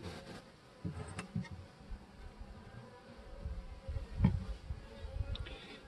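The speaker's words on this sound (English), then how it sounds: "Bees are in there." Honey bees from a package being installed in a Langstroth long hive in cold weather, a low steady buzzing hum close by with faint taps and shuffles of a hive tool.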